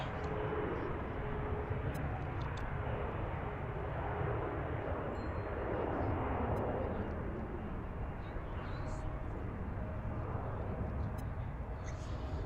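A jet airplane landing on runway 15 at Washington's DCA airport, heard from nearby Gravelly Point: a broad, sustained engine roar that swells and slowly shifts in pitch, filling the whole stretch, with faint chirps above it.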